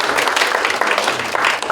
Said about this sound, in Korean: 여러분 큰 박수로 축하해 주시길 바라겠습니다.